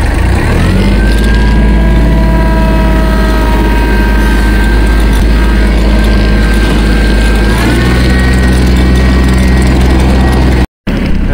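A riding lawn mower with a 48-inch deck runs steadily and loudly up close for the whole stretch, its engine drone holding an even pitch with a brief dropout near the end.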